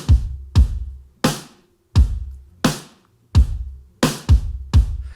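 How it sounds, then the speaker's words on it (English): Drum recording blending a live snare with a snare sample: sharp, cracking snare hits with a short resonant tail over punchy kick drums in a steady groove, loud and close with no talking. "what you're hearing is a combination of JJ's snare and the snare sample"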